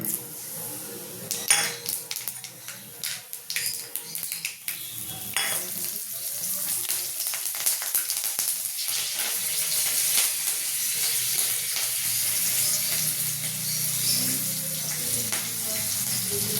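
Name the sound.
green chilies and nigella seeds sizzling in hot oil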